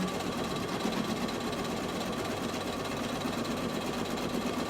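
Sewing machine stitching an applique design onto a T-shirt, a steady fast mechanical whir and rattle running evenly throughout, moderately quiet with no talk.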